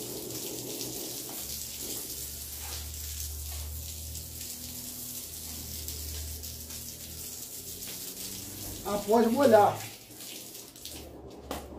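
Water runs and splashes onto a homemade floor surface to wet it before cleaning, a steady wash of sound under a person speaking Portuguese, with a brief louder gush near the end.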